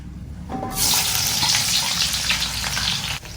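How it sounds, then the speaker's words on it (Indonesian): Chopped shallots hit hot oil and break into a loud, steady sizzle and crackle that starts abruptly and holds for a few seconds, close and with no talking. "Ini yang sudah dirajang-rajang, tinggal mencemplungkan ke dalam minyak"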